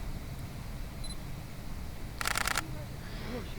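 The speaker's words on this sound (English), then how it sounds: "That's the sound of my camera as I walk around and take photos." A single camera shutter fires once in a short burst of clicks against a quiet, low background hum.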